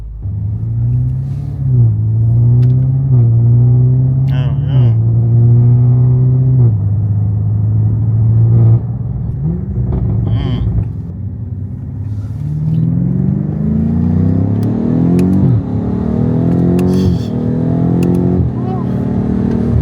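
A BMW engine rumbles and revs steadily at close range throughout, its low drone rising and falling while someone talks over it and exclaims briefly.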